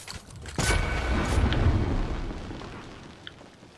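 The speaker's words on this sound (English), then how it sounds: "Wait, there's shots over here, Charlie." A loud booming blast from gunfire in Fortnite breaks out near the start and rolls on as a long fading rumble, with a few faint pops further off.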